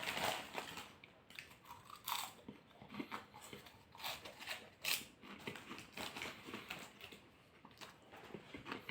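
Corn sticks are crunched and chewed close to the mouth, a quiet run of crisp, irregular bites and crackling chews with no talking.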